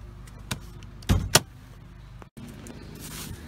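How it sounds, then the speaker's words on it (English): On an 05-09 Subaru Outback XT, the hood release is pulled, giving a sharp click and a louder clunk that sound close, followed by faint rustling and handling noises. "I'm going to start by popping the hood."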